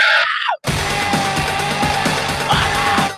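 A man screams on the world's highest gorge swing, flailing into a 540-foot deep canyon at high speed, a loud sustained yell cut briefly then continuing with rushing wind and rhythmic whooshing.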